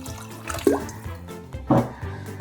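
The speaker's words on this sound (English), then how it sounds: "I'll just add a little bit of water." A little water splashes and trickles into a pot of lasagna tomato sauce made with tomato paste and canned tomatoes, two short, soft pours close by with no talking.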